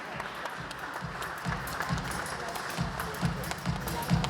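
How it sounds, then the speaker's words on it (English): An audience at a design panel discussion claps steadily throughout, a dense, even round of applause from a moderately sized crowd heard from a short distance. "I think we can have a big round of applause for Mr."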